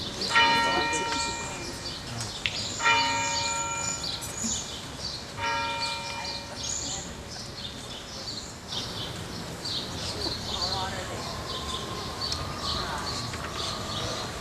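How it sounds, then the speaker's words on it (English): A church bell rings in repeated, evenly spaced strokes inside a sanctuary during a service, each stroke leaving a long ringing decay, with faint birdsong and room murmur underneath. "The bell that started to ring after I said magic."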